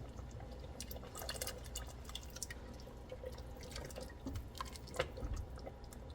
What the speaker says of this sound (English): So we're gonna pour some in.